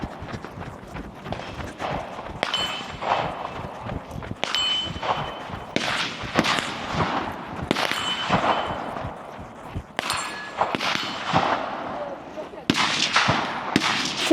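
Sharp gunshots from a regional shooting competition stage crack out in irregular bursts, some close together and some spaced apart, over a background of outdoor noise and voices.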